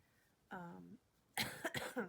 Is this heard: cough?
yes